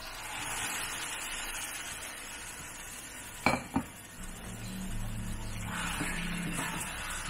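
Marinated chicken and liver drop into a pan for chicken menudo, giving a couple of sharp clatters followed by a soft, steady sizzle and faint stirring, fairly quiet overall.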